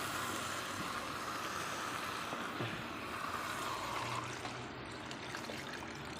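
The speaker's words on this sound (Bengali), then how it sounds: "এটা আপনারা জল দিয়ে দিন।" Water poured into a pan of curry cooking with taro, a continuous close rushing, splashing pour that holds steady for several seconds before easing slightly toward the end.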